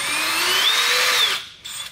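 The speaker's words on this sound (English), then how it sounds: "After I made it through with this drill bit" A power drill whines close up for just over a second while drilling through a catalytic converter shield on a 2015 Toyota Prius V, its pitch rising and falling slightly as the bit bites, then stops abruptly.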